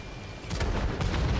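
A Demolisher tank gun fires in World of Tanks on console, giving two loud booming blasts about half a second apart over a steady low rumble of game sound.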